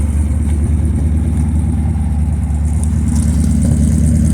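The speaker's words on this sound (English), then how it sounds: "It idles. Probably idles a little cooler right now just because it's cold outside." A 454 big block Chevy V8 in a Chevy C-10 pickup idles steadily on a cold day, running rich, with a loud, continuous low rumble close by and no talking.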